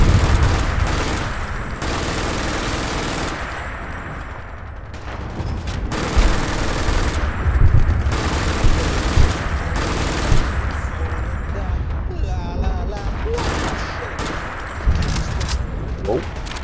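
Enemy gunfire in the Fallout London game comes as dense, continuous bursts of shots and rattling automatic fire. Loud, near impacts and booms punctuate the barrage, and brief voices are audible beneath it.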